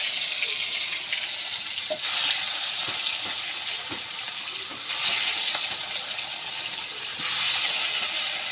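Bata fish fry in hot oil in a karai wok, giving a loud, close, continuous sizzle that swells in surges every few seconds, with faint utensil clicks beneath and no talking.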